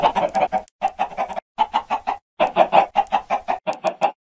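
Rapid, busy clucking from several Minecraft chickens, short choppy calls in quick bursts with a couple of brief pauses, close and clear.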